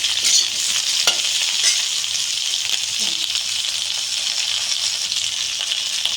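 Pointed gourd sizzles loudly in mustard oil with turmeric and salt, a dense steady frying hiss broken by occasional clicks and scrapes of stirring.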